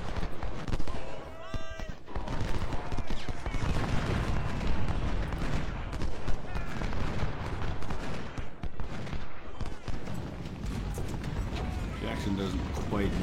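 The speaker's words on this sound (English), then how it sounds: "He was taking some shots from that artillery" Artillery fire in a war strategy video game, dense booming shots and explosions continuing throughout under a constant battle din, loud and close.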